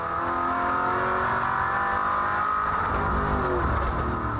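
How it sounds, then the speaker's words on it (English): A V8 race car at Ruapuna, New Zealand, 2008, screams at high revs and bangs against its rev limiter with stuttering misfires, loud and close from the in-car view, with no talk. "Clint, did you hear the misfire then? That's the rev limiter coming in."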